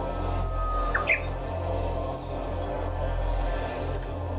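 A few short bird chirps ring out early, fairly close, in a forest on the Kumano Kodo trail, over a steady low hum and faint background hiss; the rest is mostly quiet ambience.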